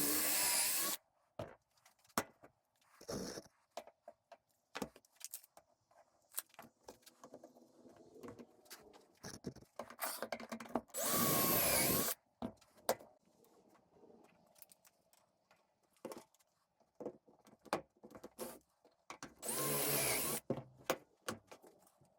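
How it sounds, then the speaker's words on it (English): A drill bores pocket holes into wooden boards for a river table mold, with several loud whirring bursts of a few seconds each, separated by quiet stretches and scattered clicks and handling knocks. "now that we're done drilling all the pocket holes"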